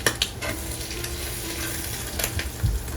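Salmon patties frying in a pan, four at once, being turned over: a constant close sizzle with a few soft scrapes and clinks of the spatula as they flip, no talking.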